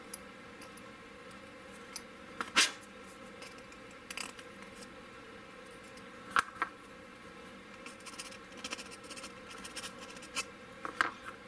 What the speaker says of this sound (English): Got a little excess plastic building up. from the filing, so I'll just trim that off.